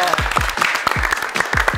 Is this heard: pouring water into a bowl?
no